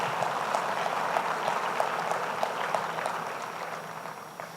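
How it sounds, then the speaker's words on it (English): Audience applause at a sustainability summit in Denver, with steady scattered clapping at moderate distance that fades slightly toward the end. "let's give ourselves a round of applause for that"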